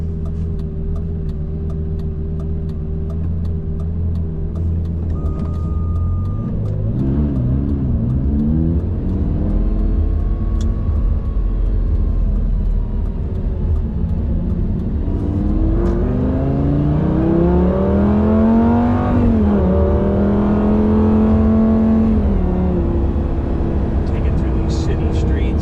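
A Lamborghini Gallardo V10 driving on city streets, a deep loud engine drone that idles, then rises and falls through several revving gear pulls, with someone talking over it much of the time.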